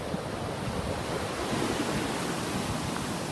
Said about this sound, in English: Wow, what beautiful fucking waves.